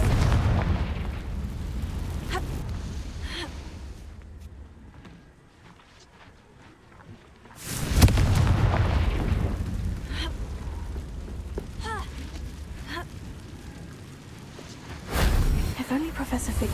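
Confringo blasting spell cast in Hogwarts Legacy: two heavy booming bursts, loud and close, each rumbling then tailing off, set over a steady bed of game noise and clattering effects.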